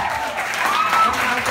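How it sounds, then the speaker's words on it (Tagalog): Applause from an audience at a motivational business talk, a dense steady wash of clapping, moderately loud throughout the short stretch, with a faint tone rising within it. "Palakpak naman dyan!"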